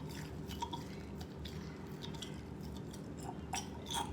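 Broth in a lab container is stirred with sterilized material, giving faint wet clicks, drips and soft squishing sounds, close and irregular over a quiet background with no talk.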